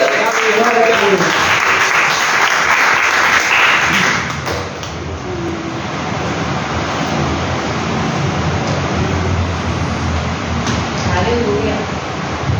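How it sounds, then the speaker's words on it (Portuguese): Church congregation applauding during a worship service, a dense roar of clapping that fills the first four seconds, then fades into a softer sustained wash of crowd noise and voices. "Igreja, aplauda o Senhor."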